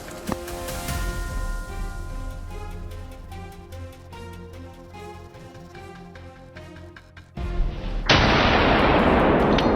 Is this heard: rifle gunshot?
yes